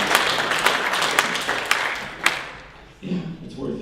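An audience claps in a hall at a political awards event, a moderate burst of scattered applause that thins and fades out while a speaking voice carries on over it.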